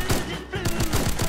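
Rapid bursts of gunfire in the survival shooter Fallen Survival, a loud run of about seven sharp, evenly spaced shots fired close up.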